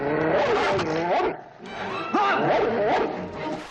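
Big dogs bark and snarl in a dense, agitated chorus from the film The Omen, loud and close with overlapping growls and yelps over a constant background rumble.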